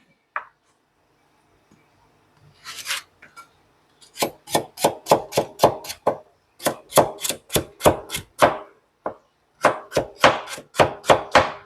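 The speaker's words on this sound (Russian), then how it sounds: "тут же нарежем сразу морковку" Rapid, crisp knife chops through carrots on a cutting board come in quick bursts of steady strokes with brief pauses between runs, close and clear.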